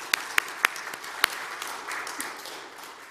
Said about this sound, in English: give a round of applause to our wonderful youth group